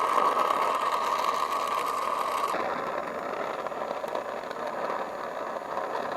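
A torch roars steadily while brazing compressor refrigerant lines, a continuous close hiss-like rush that changes tone partway through and then carries on evenly, with no speech.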